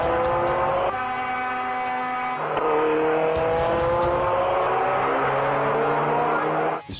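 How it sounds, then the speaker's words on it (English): A modified car drifting at high speed, engine revving hard with rising and falling pitch, sustained and loud, with a steady whine layered over the roar. "our exclusive vision shows a modified car drifting from one lane to another at dangerously high speeds"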